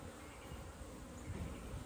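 Honey bees hum in a dense, steady drone from an open hive during an inspection, the buzzing close and continuous with no talk over it.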